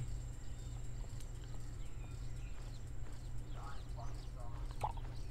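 Steady clip-clop of horse hooves in the riding game My Little Riding Champion, fairly faint and continuous under a low hum, with a voice talking at times.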